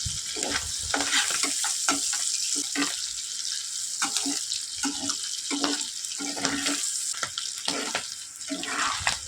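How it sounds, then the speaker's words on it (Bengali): Small fish frying in oil over a low flame, a steady close sizzle with repeated soft stirring and scraping taps, no talking. "তাছাড়াও ছোটো মাছকে ভাজতে গেলে একটু সময় লাগে"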